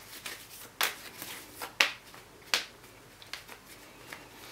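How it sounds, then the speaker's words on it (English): Tarot cards shuffled by hand, giving a few sharp riffling snaps and soft papery brushes spaced irregularly over a quiet room, close to the microphone with no talking. "So let's shuffle for you guys"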